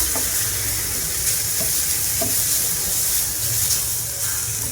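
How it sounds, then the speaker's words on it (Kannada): A tomato and turmeric mixture fries in a pan, producing a loud continuous sizzle with occasional stirring knocks against the pan, close up and without any talk. "ಜಾಸ್ತಿ ನಾನಿಲ್ಲಿ ಫ್ರೈ ಮಾಡ್ಕೊಂಡಿಲ್ಲ, ಸ್ವಲ್ಪನೇ ಇಲ್ಲಿ ಹಸಿ ವಾಸನೆ ಹೋಗೋವರೆಗೂ ಮಾತ್ರ ನಾನಿಲ್ಲಿ ಫ್ರೈ ಮಾಡ್ಕೊಂಡಿದ್ದೀನಿ"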